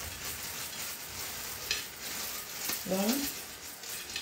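Shrimp heating in a pot on the stove for Ndolé gives a steady frying sizzle throughout, with a person briefly speaking near the end.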